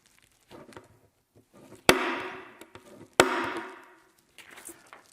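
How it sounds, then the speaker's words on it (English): An automatic center punch marks a hole spot during a Honda Talon SSV stereo install, firing two sharp, loud metallic snaps about a second apart, with faint handling noise around them. "I use an automatic center punch, and I will punch right where that hole is"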